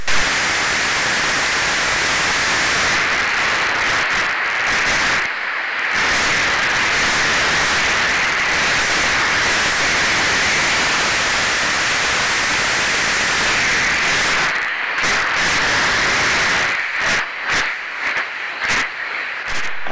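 A steady hiss of broadband static fills the sound, with brief dropouts and crackly interruptions toward the end, like a hissing leak heard through an ultrasonic leak detector (UE Systems Ultraprobe 15,000).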